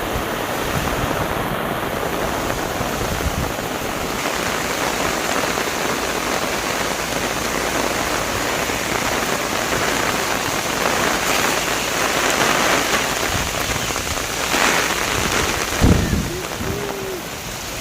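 A heavy rainstorm with strong wind near a canal pours down as a loud, constant roar and hiss, gusting in places, with a short knock and a faint voice near the end.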